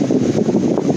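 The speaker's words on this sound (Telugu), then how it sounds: "గాలి అయితే గట్టిగా వస్తుంది." Strong wind gusting across Baga Beach in Goa, a steady loud rushing roar buffeting the microphone, with no voices over it.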